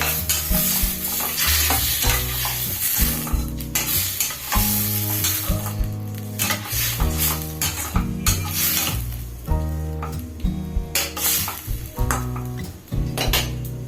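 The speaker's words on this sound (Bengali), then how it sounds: "এবার এখানে আমি যেই মশলাগুলো গুলে রেখেছিলাম সেই মশলাটা দিয়ে দিই।" Spice paste sizzles in hot oil for a cauliflower and baby potato dum while a utensil stirs and scrapes the pan, a steady, close frying sound with no voices.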